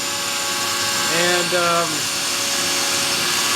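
A steady high-pitched router whine with an up-spiral bit cutting MDF door inserts, its pitch dipping briefly as it bites into the board before settling again.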